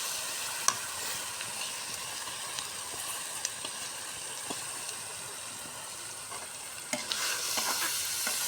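Masoor lentils frying in spiced oil, with a steady soft sizzle and scattered light scraping stirs, quiet and close, no talking.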